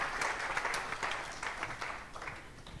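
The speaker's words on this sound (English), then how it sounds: "Please welcome them with a big applause" An audience at a smart villages conference applauds a pair of speakers, a brief wash of steady clapping from many hands, moderately distant, fading gently toward the end.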